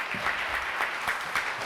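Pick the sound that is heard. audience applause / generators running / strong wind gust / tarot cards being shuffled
audience applause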